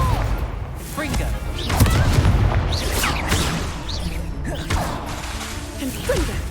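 The explosive Confringo spell in Hogwarts Legacy, a dense run of booms, cracks and mechanical rattles under steady loud game noise, with voices talking over the blasts throughout.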